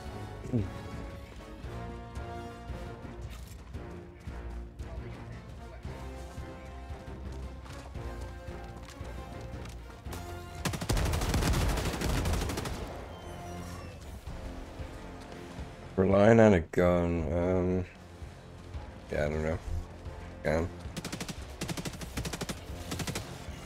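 Rifle fire in the video game Helldivers 2, bursts of shots clustering in two loud stretches with scattered single reports between, against game sounds and a player speaking.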